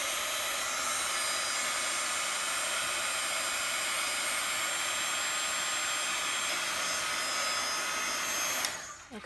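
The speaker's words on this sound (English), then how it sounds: "I'm going to have to turn on my heat gun and get this drying real quick" Heat gun blowing to dry a junk journal craft project, a loud, steady airy whir held close for several seconds before it abruptly switches off near the end.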